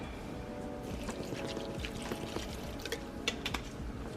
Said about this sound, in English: we're going to pour a little water in